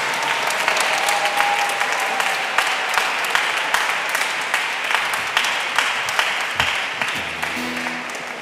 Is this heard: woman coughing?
no